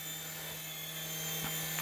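A budget beginner RC helicopter hovers indoors with a steady, high-pitched whirring rotor and motor drone that holds constant throughout, close to the listener and alone.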